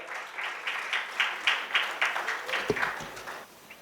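Audience applause at a Gujarati book launch event as a performer is welcomed to the stage, a moderate, steady wash of clapping from a seated crowd with no talk over it.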